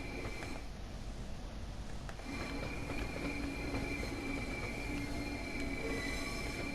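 A Southeastern high-speed train in Train Sim World 2 rumbles steadily along the track, with wheel squeal and a faint clatter over the rails in a loud, continuous run.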